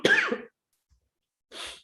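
A person coughs twice, a sharp close cough followed after a brief pause by a second, softer one, with silence between.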